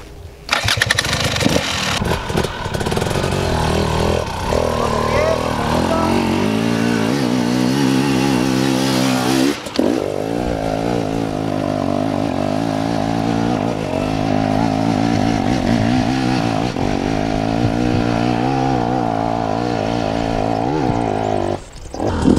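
Off-road motorcycle climbing a hill in second gear with the rider standing, engine droning loudly and steadily close by, with a short throttle dip partway through before the sustained pull resumes.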